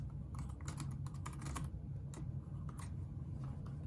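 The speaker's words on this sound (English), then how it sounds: "just start typing random stuff in this" Rapid, uneven clicking of keys on a computer keyboard, close by and continuous, over a low background hum.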